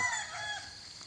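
A rooster crowing in a steady, drawn-out call, fairly close and clear, with no voices around it.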